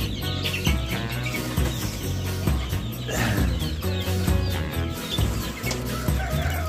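Chickens in a hatching room full of poultry cluck and chirp continuously, several birds at once close by, with busy overlapping calls and a steady low hum underneath.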